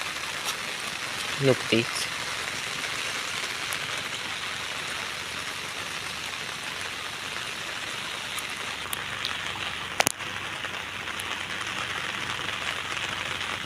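Steady rain pours over a farm field on the first day of pulling rice seedlings, an even, dense hiss throughout, with a few brief knocks and a short voice near the start.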